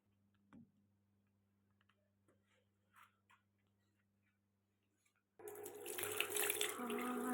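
Cold water gushes loudly from a tap in a quiet room at night, starting suddenly after several seconds of near silence with faint ticks and small knocks, then running steadily to the end.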